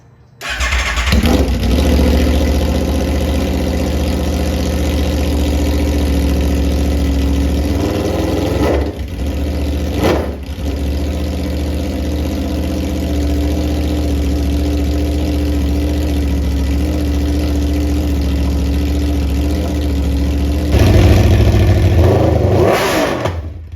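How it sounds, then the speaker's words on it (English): A 2023 Aprilia RSV4 motorcycle with an SC Project GP22 race exhaust cranks and fires up, then idles with a deep, loud, throaty exhaust rumble, with a couple of brief revs. "First startup of the Aprilia RSV4 with the GP22 SC Project exhaust."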